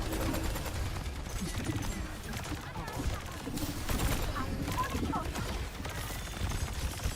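Rapid, sustained gunfire from a video game rattles continuously and loudly, dense bursts layered under excited talk from a player throughout.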